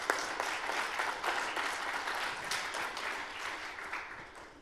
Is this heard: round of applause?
yes